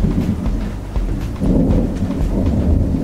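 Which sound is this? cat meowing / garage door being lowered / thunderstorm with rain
thunderstorm with rain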